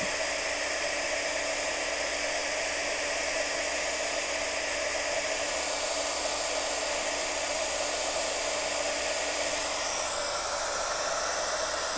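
A heat tool blows steadily over one end of a handmade watercolor Valentine's card, giving a loud, constant whooshing hiss like a hair dryer that runs unbroken for the whole stretch with no talking.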